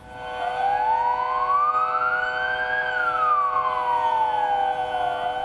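Commemorative sirens sound for a moment of silence at 9:05 in Tepebaşı, a single loud siren wailing slowly up to a peak and back down, steady and alone without voices.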